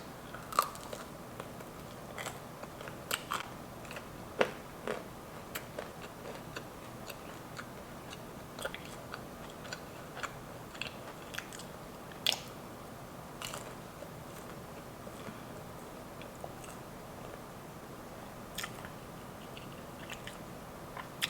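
Someone eats dry-rub lemon pepper boneless chicken wings up close, with soft, irregular bites and chewing clicks over a quiet background.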